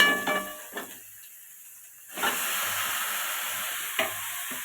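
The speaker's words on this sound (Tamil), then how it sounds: "தக்காளி நல்லா வதங்குற வரையும் வதக்கி எடுத்துக்கலாம்." Tomatoes sautéing in a pan for beetroot chutney, a steady close sizzle and hiss with a few stirring scrapes, no talk.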